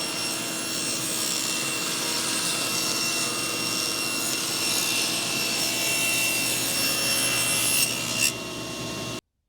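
A groove about an eighth of an inch deep is cut into wood using a jig, producing a loud, steady whining tool noise that runs continuously for about eight seconds before cutting off abruptly, with no voices.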